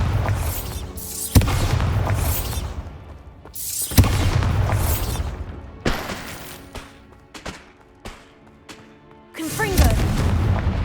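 Bombarda spell blasts in Hogwarts Legacy thump out as several heavy booms spaced a couple of seconds apart, each with a rumbling tail, amid combat effects and shouted spell calls.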